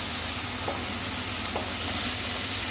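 Steady, dense sizzling of garlic-ginger paste and tomato frying in hot oil, continuous and fairly close, with a couple of faint soft clicks and no talking.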